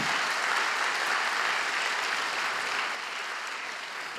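Audience applause at an open lecture on the limits of science, with dense, continuous clapping from a full hall that holds steady throughout and eases slightly toward the end.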